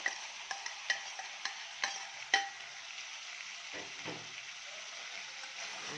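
Chopped onion stirred into chicken breast frying in a pan: a quick run of spoon taps against the pan, then a soft continuous sizzle, close but quiet, no voices.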